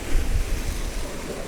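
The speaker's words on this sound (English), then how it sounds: "waves crashing. This location is really known for the waves" Ocean waves crashing on rocks at Madeira, a short burst of loud, rushing surf noise with a low rumble and wind blowing over it.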